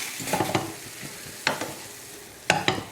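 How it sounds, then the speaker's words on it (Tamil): Ponnanganni greens and lentils being stirred in a hot pan, with a few distinct scraping stir strokes at irregular intervals over a soft background sizzle, close and fairly loud. "நல்லா மிக்ஸ் பண்ணி விட்டுலாம்"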